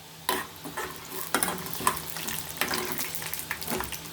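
Peanuts tossed and frying in a pan for chutney, with repeated scraping stir strokes and light sizzling at close range, no voices.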